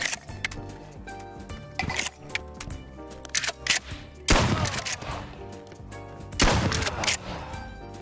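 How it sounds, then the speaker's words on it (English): Shotgun blasts in the VR game Bonelab: several sharp, loud shots spaced irregularly, with heavy booming bursts near the middle and end. "looks like I need to get some shotgun work done"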